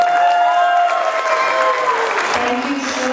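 A school annual function audience bursts into loud, dense applause and cheering for a volunteer, close and sustained for a few seconds before tapering slightly.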